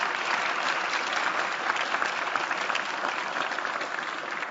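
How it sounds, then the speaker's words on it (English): Continuous applause from an event audience thanking sponsors, many hands clapping in a steady, moderately loud wash with no voices standing out. "So let's give them a round of applause,"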